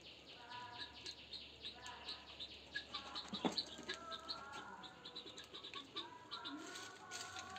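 Outdoors at a seaside picnic spot, a bird that is not a swan gives faint, repeated short calls in a quick series, with soft background noise and some distant voices.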